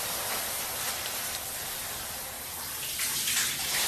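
Hot water runs steadily from a shower, a dense continuous hiss and patter that stays loud and close throughout, with no voices over it.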